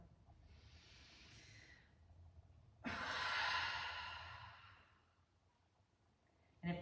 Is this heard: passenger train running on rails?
no